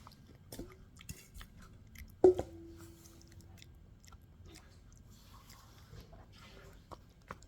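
Quiet, soft chewing of a mixed mouthful of food, wet squishy bites close to the mic, with one sharper crunch or click partway through and faint background noise.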